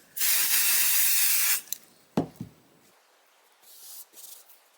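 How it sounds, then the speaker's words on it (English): An aerosol can of spray adhesive hisses in a long, steady burst over quilt batting for basting, followed by a few clicks and handling sounds and a fainter second spray near the end. "I'm going to crack a window and just spray it and get this down really quick."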